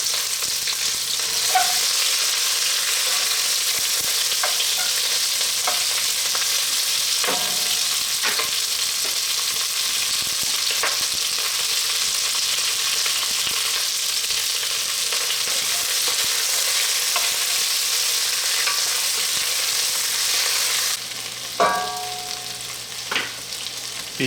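Mirepoix vegetables frying in a pot for brown beef stock, a steady broadband sizzle throughout with occasional scrapes of stirring, close and fairly loud, with no talking.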